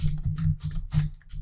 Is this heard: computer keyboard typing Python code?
yes